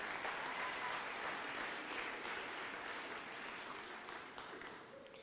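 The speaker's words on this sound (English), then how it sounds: "Big round of applause for all the contestants and nominees today." Audience applause at an awards live stream honoring contestants and nominees, a steady dense clapping that holds for several seconds and then tapers off gradually.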